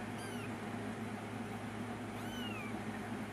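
Little kittens meow faintly in a couple of high, thin cries over a steady indoor hum.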